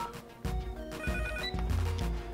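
A telephone rings with a repeating electronic trill, moderately loud and close, sounding several times in a steady rhythm without any talk.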